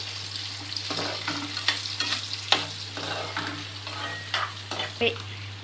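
Green chilies and tempering seeds fry in hot oil for a yogurt masala chicken curry, with a close, steady sizzle and repeated scraping strokes of a spoon stirring the pan.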